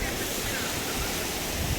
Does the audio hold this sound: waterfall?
yes